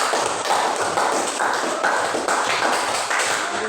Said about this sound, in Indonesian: Kita berikan aplaus untuk kelompok 4.